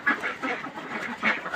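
Domestic ducks kept on a small farm quack in a loose series of nasal calls, close and moderately loud, with several birds overlapping and no talk.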